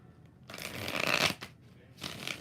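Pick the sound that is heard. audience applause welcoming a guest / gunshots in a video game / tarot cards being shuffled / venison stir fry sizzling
tarot cards being shuffled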